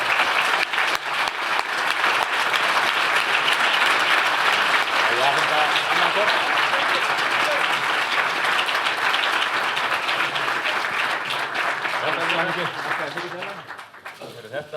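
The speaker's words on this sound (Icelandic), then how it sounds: "Gefum þeim gott klapp." Loud, sustained audience applause at an Icelandic IT awards ceremony as a company receives its prize, dense clapping that gradually thins, with speech emerging under it near the end.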